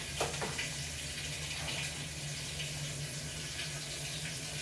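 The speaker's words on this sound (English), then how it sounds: "I am getting ready to start this loud wash machine so that I can wash some clothes" Water gushes steadily into a loud washing machine as it fills for a load of clothes, a continuous close hissing rush with a low hum underneath.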